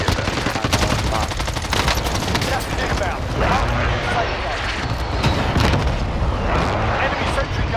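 Rapid bursts of gunfire and booming cluster-strike explosions fill a first-person shooter match, loud and continuous, with voices talking over the din.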